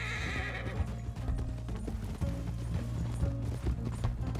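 A horse in Red Dead Redemption 2 online whinnies, and steady clip-clop hoofbeats run beneath a busy, continuous game soundscape, close and fairly loud, with no talking.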